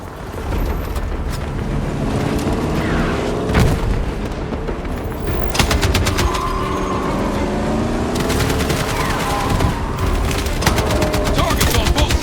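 Heavy gunfire in the Battlefield 6 campaign: sustained automatic bursts and rattling shots with deep booms and explosions, loud and continuous, mixed with game music and brief shouted voices.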